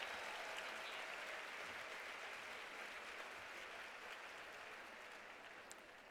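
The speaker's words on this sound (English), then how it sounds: "let's give them all a big round of applause" Steady applause from a crowd at a women's power lunch honoring township trustees, fairly even and sustained throughout, slowly easing toward the end, with no voices over it.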